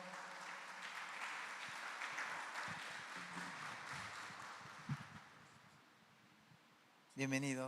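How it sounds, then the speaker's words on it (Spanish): A church audience gives a speaker a sustained round of applause, a dense steady patter of many hands lasting several seconds before fading, with a brief murmur of voices underneath and a louder burst of sound at the end. "Por favor, denle un aplauso y recibámoslo con gozo."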